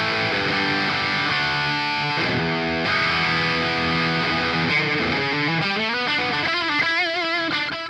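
Electric guitar played through a Joyo Preamp House amp-modeling pedal, loud distorted chords and sustained notes giving way to bending, vibrato-laden lead lines, continuous with no talking.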